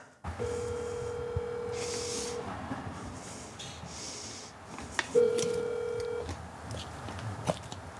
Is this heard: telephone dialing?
yes